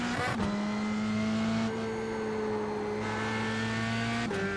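A race car in iRacing drones steadily at close range, its engine pitch easing down under braking and then holding as it drives on, a brief gear-change blip near the end, with no talk.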